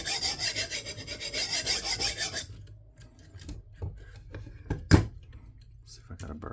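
A knife blade is drawn across a stone on a KME Precision Control Plus sharpener, giving a dense, rhythmic rasping scrape for a few seconds, then scattered softer strokes and clicks, close up and fairly quiet.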